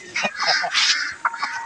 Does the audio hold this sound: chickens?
yes